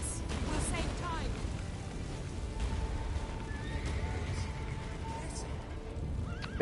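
Horse in the video game The Witcher 3 whinnies and then gallops, hoofbeats thudding steadily under game music and ambient battle rumble, moderately close.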